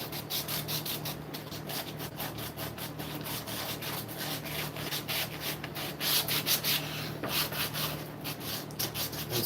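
Maple wood being sanded by hand, producing repeated rhythmic scratchy rubbing strokes that are close and steady, with brief pauses between passes and no voices.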